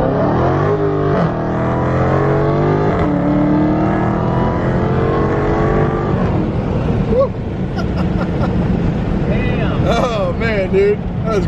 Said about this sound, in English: we're gonna do a pull in this thing and see how it's going. Get a little sound pull here.